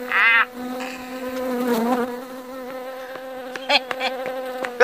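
A bee or wasp buzzes loudly and close by, its drone rising and wavering continuously, broken near the end by a few short sharp bursts.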